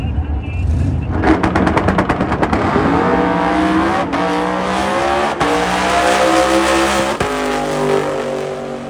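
A powerful NHRA Pro Mod drag racing car engine roars at high revs, with loud sustained rumbling and shifts in pitch, sharp gear changes cutting through.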